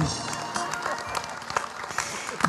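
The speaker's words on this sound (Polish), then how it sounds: "Im niżej się ukłonimy, tym dłużej będziemy mieli oklaski." A senior audience at a concert claps after the performers bow, a dense, steady patter of many hands close by, with scattered sharper claps standing out.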